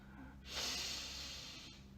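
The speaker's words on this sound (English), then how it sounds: "You rub your wrists together and inhale deeply." A deep, slow inhale through the nose, close and soft, swelling to a breathy rush and then tapering off over about a second.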